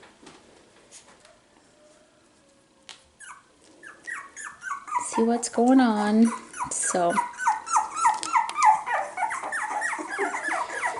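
A litter of four-week-old Cockapoo puppies playing, with small growls, yips and whimpering squeals coming in quick bursts, close and lively, while a person briefly speaks early on.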